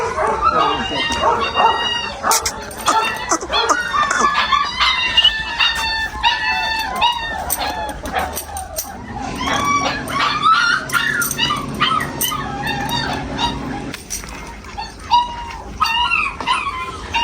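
A group of dogs barks, yips and whimpers in a busy, noisy cluster, close and loud throughout, with people talking over the din.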